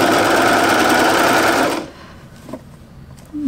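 A sewing machine stitches knit fabric in a fast, loud, continuous whir for nearly two seconds, then stops abruptly, leaving a quiet room with a couple of faint small clicks.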